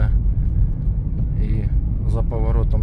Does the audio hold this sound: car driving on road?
yes